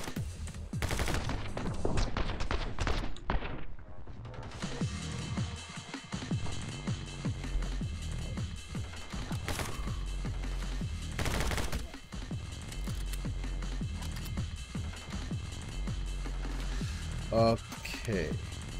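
Rapid bursts of gunfire from the action shooter game My Friend Pedro, dense and loud throughout, layered over constant game music and effects, with a brief dip near the middle.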